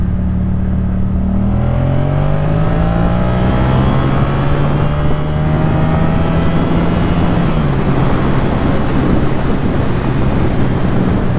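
A new motorcycle on its first kilometres rises steadily in engine pitch as it accelerates, heard under heavy, constant wind roar from riding.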